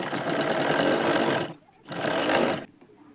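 A sewing machine stitches the shoulder seam of a katori blouse in two steady runs, broken by a short pause, close and fairly loud.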